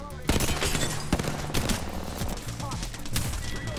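Rapid gunfire bursts in a video game, loud and continuous over game music and effects, with bursts of automatic fire and single shots.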